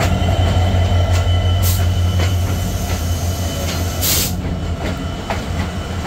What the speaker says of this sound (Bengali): সামনে কিন্তু দাঁড়িয়ে রয়েছে ঢাকা থেকে ছেড়ে আসা রাজশাহীগামী ধূমকেতু এক্সপ্রেস